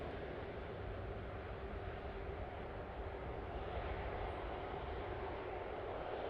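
Virgin Atlantic Airbus A330 airliner arriving at Manchester Airport from Atlanta, a steady, dense jet engine roar holding level throughout, broad and continuous with no pauses.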